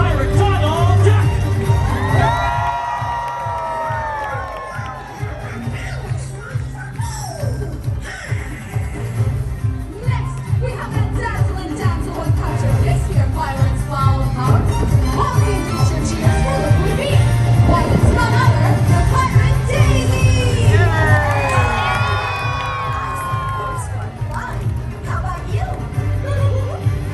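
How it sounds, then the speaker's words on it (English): A crowd aboard the Disney Fantasy cruise ship cheers and whoops loudly for Pirate Donald Duck at a pirate-themed deck event, with children's shouts mixed in and the cheering swelling and fading over a sustained, busy din. "Please give a Buccaneer cheer for Pirate Donald Duck!"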